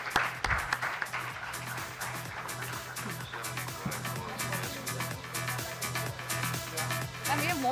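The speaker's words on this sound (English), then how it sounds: "Let's give a huge applause for the entire Navjyoti Foundation." Audience applause for the Navjyoti Foundation at a startup expo and conclave, a dense, steady wash of clapping that runs the whole time, with a low hum and bits of murmured talk beneath.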